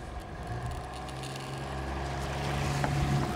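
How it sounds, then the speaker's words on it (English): A petrol outboard motor pushes a fishing boat, a steady mid-pitched drone that slowly builds in loudness over wind and water noise. "Start the petrol motor now."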